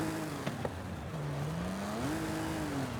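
A turbocharged car engine in Forza Horizon 5 hums at moderate distance, its tone dipping and then climbing as it revs, with a raspy exhaust note and a couple of brief higher chirps early on.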